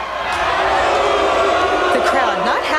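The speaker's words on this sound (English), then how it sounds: "The crowd not happy with the decision." An arena crowd at a boxing and lady fighting event reacts with displeasure to a draw decision, a loud continuous mass of shouting and jeering voices throughout.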